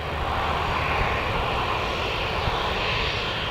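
Aircraft engines at Newcastle Airport make a steady, loud broadband roar that holds evenly through the whole stretch with no speech over it.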